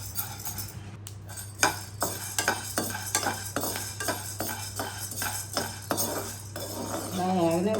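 Sorghum pops being stirred in a pan as they fry, a spoon scraping and clinking against the metal in a steady rhythm over a soft sizzle and a constant low hum.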